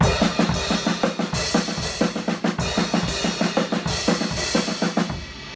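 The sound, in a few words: drum set crash cymbal accent pattern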